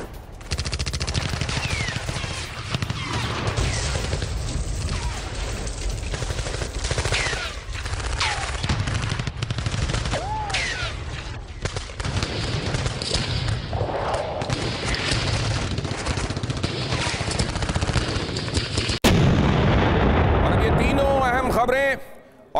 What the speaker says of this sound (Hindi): आसमान से रूस की यूक्रेन पर विनाशक बमबारी, 144वीं इन्फेंट्री ने बोला यूक्रेन पर हमला